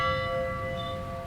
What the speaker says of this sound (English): when you enter the temple, there is a bell